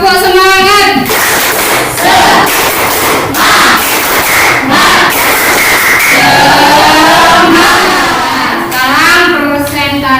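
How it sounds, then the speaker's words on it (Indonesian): A classroom of students performs a rhythmic spirit clap, tepuk semangat, with loud patterned clapping and chanting voices filling the room, dense and energetic throughout. "Tepuk semangat dulu ya, biar kalian fresh"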